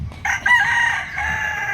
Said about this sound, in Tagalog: pero punong-puno ng manok. Maraming manok dito.